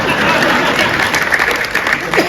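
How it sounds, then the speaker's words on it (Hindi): Audience applause at a Hindi comedy poetry gathering (hasya kavi sammelan), a steady dense patter of many hands filling a short burst, with faint voices mixed in beneath. "ताली बजाओ निकल लो"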